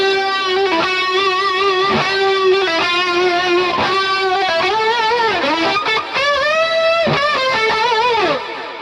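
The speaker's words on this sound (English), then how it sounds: "let's hear that with the symphonic effect, and I will bring in some delay" Yamaha FX900 multi-effects unit running a symphonic chorus with delay on a sustained, harmonically rich instrument line, shimmering and echoing repeats trailing each note, loud and steady with no talk.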